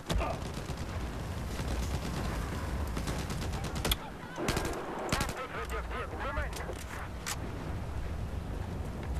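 Rapid machine-gun and rifle fire in the video game Battlefield 4, dense sustained bursts with scattered louder shots, while players shout and talk over the combat.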